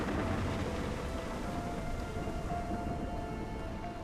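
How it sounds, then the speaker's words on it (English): Sleet falls in cold polar country near freezing, a steady dense hiss of icy pellets striking surfaces, continuous and moderately faint with no voices. "With temperatures around zero, rain turns into sleet."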